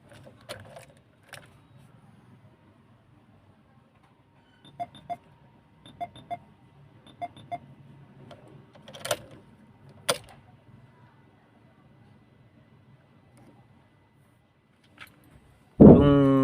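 Datsun Go car being locked, a series of short electronic beeps and clicks spaced across a quiet background, ending in a loud burst of noise.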